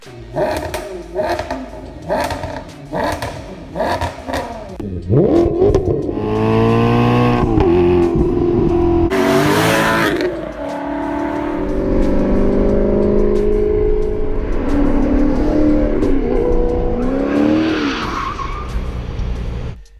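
A loud Ferrari F430 V8 dual overhead cam engine, redlining at 8,300 RPM, revs in short sharp blips, then holds long high wails that rise and fall, with squealing tire-like screeches and no talking.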